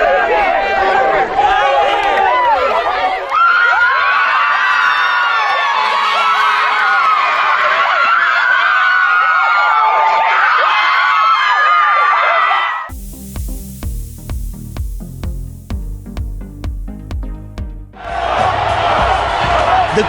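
Spectators at a Class A state championship game roar and shout together in a dense, sustained wall of crowd noise for about thirteen seconds, after which loud music takes over.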